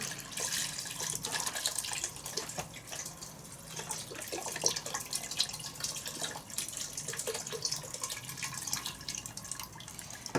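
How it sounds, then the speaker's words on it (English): Four cups of beef broth poured straight into a crockpot of browned meat, a steady liquid splashing and trickling that runs unbroken for about ten seconds with no talking. "I'm going to add 4 cups of beef broth and just pour it straight in there."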